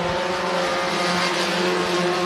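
Hobby stock race cars roar around the dirt oval at Crawford County Speedway, a dense, continuous wash of engine noise from several cars at once, loud and sustained with no clear gaps.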